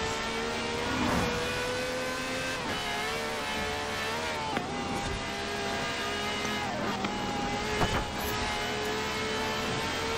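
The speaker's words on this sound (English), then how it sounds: "the Chiron there, getting a little bit of a nitrous boost." Bugatti Chiron hypercar accelerating under nitrous boost in Forza Horizon 4, a sustained loud engine drone with rising tonal whine across the whole stretch, close and continuous with no talk.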